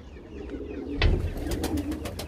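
Soft, low pigeon coos murmur close by, with a few sharper flutters and rustles in the middle.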